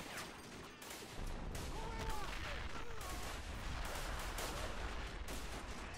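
Dense, continuous gunfire in a WW1 battle game at Fort de Vaux, rapid rattling shots and booms layered into a loud wall of combat noise, with faint voices mixed into the din.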